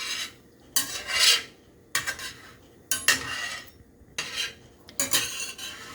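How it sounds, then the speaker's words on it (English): Spatula scraping and tapping in a buttered frying pan while a pancake is turned, making several close bursts of metallic scraping with short pauses between them and no speech. "now I'm going to flip it again, because the back is just a little bit too light for me"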